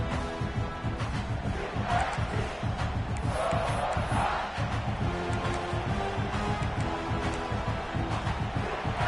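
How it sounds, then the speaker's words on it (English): A home stadium crowd cheers loudly and continuously at a college football game in the video game NCAA 26, Oregon vs. SC, a dense roar sustained from start to finish with no voices standing out. "how nice is it to have the home crowd going absolutely bananas?"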